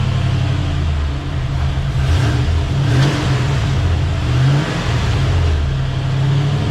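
An LS-swapped square-body truck engine runs on its first start with a loud, rough, steady rumble, rising and falling slightly as it revs, close by and without talk.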